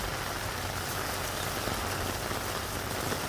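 Rain pours onto an open grazing pasture, a dense, even hiss of drops that stays loud and constant with no voices.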